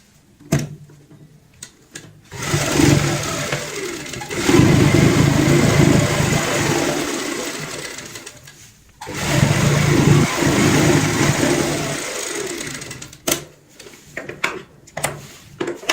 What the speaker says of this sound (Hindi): अब हम दूसरी सिलाई लगाएंगे।